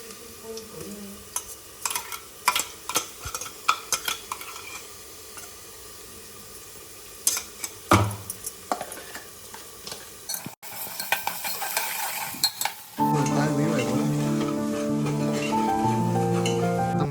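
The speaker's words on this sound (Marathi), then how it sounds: "कांदा जरासा लाल पडत आला की अद्रक लसूण फ्रेश टाकायची त्याच्यामध्ये" Fresh ginger and garlic go into browning onions in a home kitchen pan for a village-style chicken curry. Scattered metal clinks and stirring come first, then a loud, steady sizzle rises and continues to the end.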